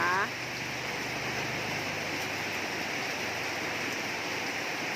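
Afternoon rain at Don Thoi falls as a steady, dense wash of hiss that stays even and continuous throughout, with no clear talk.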